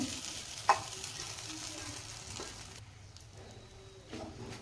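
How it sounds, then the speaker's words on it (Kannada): Crumbled idli being stirred in a frying pan for idli upma, with a soft continuous sizzle and scraping strokes, one sharp clink near the start, close and moderately quiet with no talk. "ಈಗ ಇದನ್ನು ಸ್ವಲ್ಪ ಈ ಥರ ಕೈ ಆಡಿಸೋಣ."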